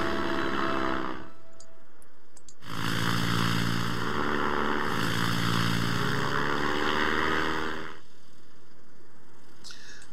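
World War I propeller airplanes flying in the video game Ace Patrol: a steady, droning engine hum swells loudly in the middle and fades toward the end, with no voices.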